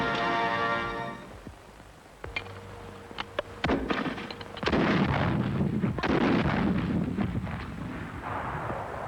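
Artillery fire shells a Soviet staging area in archival newsreel sound: a droning tone gives way to repeated heavy booms and blasts that merge into a continuous rumbling barrage.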